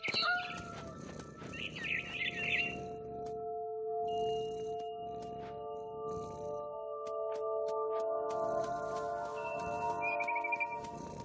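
Birds chirp in the video game What Remains of Edith Finch, high scattered tweets and trills over sustained tonal game music, moderately loud and near.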